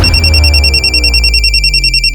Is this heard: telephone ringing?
yes